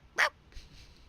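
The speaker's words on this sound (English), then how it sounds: "dog in the background, barking" A single short dog bark off in the background of a World of Warcraft scene, brief and moderately loud against quiet game ambience.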